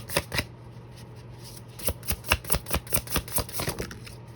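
A deck of oracle cards is shuffled by hand: a soft riffle near the start, then a quick run of crisp, evenly spaced card flicks and snaps close up, with faint room hum underneath.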